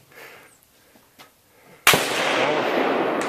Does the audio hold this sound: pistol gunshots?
yes